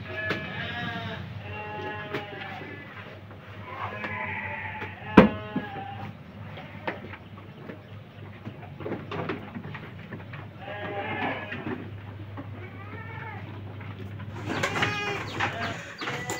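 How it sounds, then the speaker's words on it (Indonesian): Sheep and goats, including Etawa goats, bleat repeatedly around a farm pen, several calls overlapping with birds chirping and a low steady hum, with a sharp knock midway. "Sekarang dilengkapi ada domba, kambing, kambing etawa"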